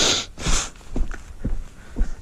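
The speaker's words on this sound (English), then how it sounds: "Pardon me blowing my nose here." Someone blows their nose outdoors on a little-used hiking trail at Medoc Mountain, a couple of loud, breathy bursts followed by several short, sharp snorts and sniffs close to the microphone.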